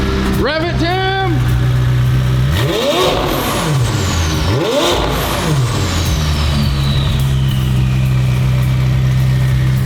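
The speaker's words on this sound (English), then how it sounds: "That turbo noise is so cool." A turbocharged car engine, tuned for about 250 extra horsepower, blips and revs in sharp rising and falling bursts over a steady idle, loud and nearby, with voices talking around it.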